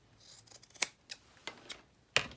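Scissors snip through material for a handmade journal pouch, several crisp, close cuts at an uneven pace, quiet overall with no voices.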